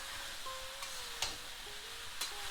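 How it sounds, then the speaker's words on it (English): Aloo gobi is stirred in a pan with a quiet sizzle, and a few soft ticking spoon scrapes stand out against the steady frying hiss. Faint and close, with no talking. "So keep stirring it for a little while"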